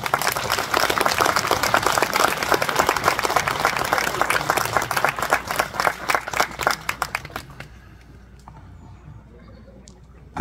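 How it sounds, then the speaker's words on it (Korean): An audience at a peace and unification festival at a temple near Sobaeksan gives sustained applause, dense clapping that thins out around the eighth second and fades into near silence. "박수 한번 보내주십시오"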